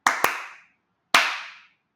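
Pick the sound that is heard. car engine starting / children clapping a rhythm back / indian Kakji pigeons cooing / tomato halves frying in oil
children clapping a rhythm back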